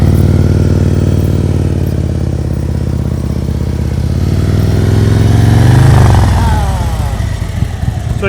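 A motorcycle rolls at walking pace during an advanced slow-speed riding practice session, its engine a loud, close, steady chugging throughout that swells slightly and then shifts in pitch near the end as the bike brakes to a stop.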